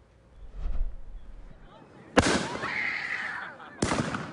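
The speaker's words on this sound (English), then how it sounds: "Aerial fireworks have been exploding." Aerial fireworks exploding outdoors: a faint low thump early on, then two sharp loud bangs about a second and a half apart, the first trailing into a crackling, whistling tail.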